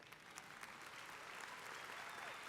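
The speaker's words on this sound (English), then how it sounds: "yes, you can applaud." A crowd applauds at the University of Houston Law Center spring commencement ceremony, producing a steady, even wash of clapping that swells slightly toward the end, heard from a distance and fairly soft.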